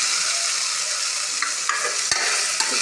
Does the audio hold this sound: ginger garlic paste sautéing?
yes